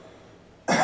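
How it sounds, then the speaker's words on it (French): A single short cough, given on request during a medical examination, bursts in abruptly after a moment of near silence, close and loud. "Toussez."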